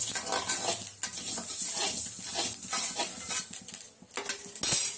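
Spices for kuzhambu chilli powder crackle and pop in hot oil with a constant hiss, punctuated by light scraping of a utensil against the pan.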